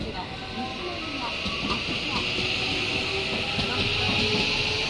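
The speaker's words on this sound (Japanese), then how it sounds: "電車は10秒で到着します。" A train on the Tokaido-Sanyo Main Line, made up of 10 cars, rumbles into a station with a steady broadband roar, faint rail clicks and a hissing high band, while voices carry faintly under the noise.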